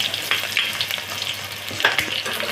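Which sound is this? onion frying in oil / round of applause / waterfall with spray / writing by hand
onion frying in oil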